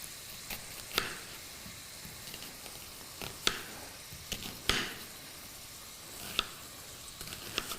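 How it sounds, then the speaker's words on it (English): Meat sizzles and browns in a hot pan beside onion for a Syrian dish. A low, steady frying hiss runs under the whole stretch, broken by faint clicks and stirring taps. "Now, you'll see it's the meat is still browning."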